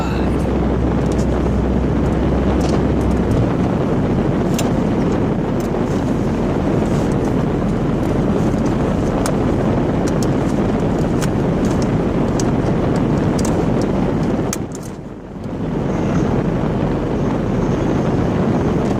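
Steady broadband engine and road rumble from a 1987 Chrysler Fifth Avenue on the move, loud and continuous with wind-like hiss, one brief dip in level near the end.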